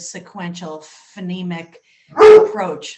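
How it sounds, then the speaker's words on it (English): A dog barks in a short loud burst near the end, cutting across a person speaking close by. "Sorry, that's my dog"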